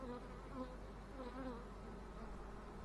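A soft, steady hum of many Carniolan honey bees buzzing together at a hive entrance, faint and continuous with no voices.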